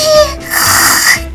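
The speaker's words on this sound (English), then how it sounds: "Wow, she's such a little snore." A girl snores while asleep, one long rasping snore filling the middle of the short stretch, close and fairly loud, framed by brief quieter breaths.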